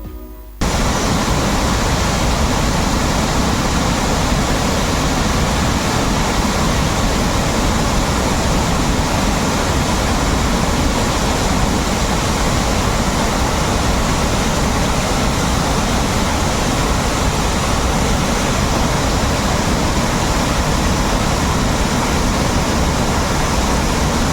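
Randha waterfall near Bhandardara, swollen by monsoon rain, roars in a loud, unbroken wash of rushing water that fills the whole span without any voices.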